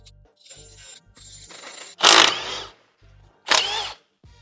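Nuts and bolts being undone on a Ford Ranger Raptor, with short bursts of a power tool, two louder whirring spells among quieter intermittent tool noise and gaps.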